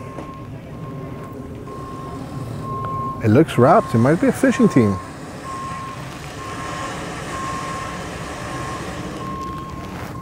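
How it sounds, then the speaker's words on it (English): A truck's backup alarm beeps in a quick run of about eight tones while it backs a boat trailer down a boat ramp, loud over steady ambient noise, with people talking nearby. "He's got the backup alarm on and everything."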